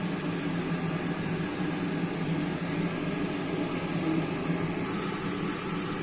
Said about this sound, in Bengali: এই যে তেলের মধ্যে গাজর ছেড়ে দেওয়া হলো।